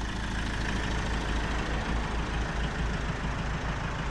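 The Iveco turbo diesel engine of a rare Cavalier Diplomat runs with a steady, even drone and low rumble, constant and fairly loud with no talk over it.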